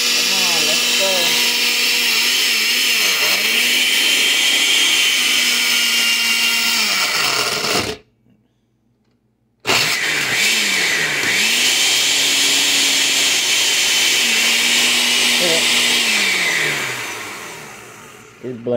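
An old blender whirs loudly while blending a berry banana smoothie, its motor pitch dipping and recovering as it strains, with a brief silent pause midway before it starts again; a voice speaks faintly.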